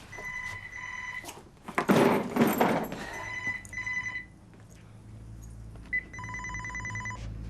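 Telephone ringing indoors in a domestic setting, repeated electronic ring bursts with a loud thump or clatter in the middle, fairly close and clear.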